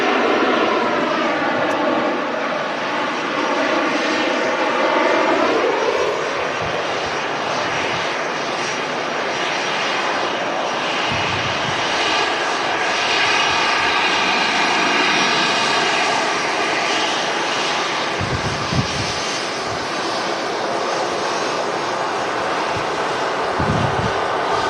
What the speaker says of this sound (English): Oh, that Turkish making a hell of a rumble